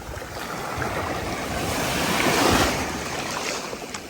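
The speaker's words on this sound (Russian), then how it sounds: "Вот такие волны здесь, смотрите." Strong sea waves break on Tamchi beach on the Sea of Japan near Tsuruga, a broad rushing surf that builds to a loud crest midway and then recedes, with wind buffeting the microphone.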